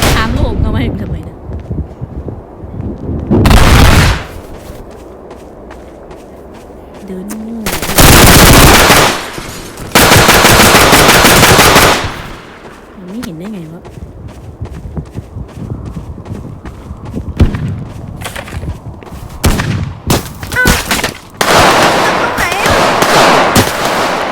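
Bursts of gunfire and rapid machine-gun volleys crack loudly and close, separated by quieter gaps with scattered single shots.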